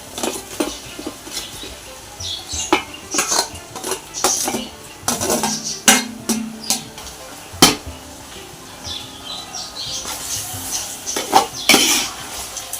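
Tomatoes go into a pot for mutton biryani and are stirred, with repeated metal clanks and scrapes of a spoon against the pot over a faint sizzle.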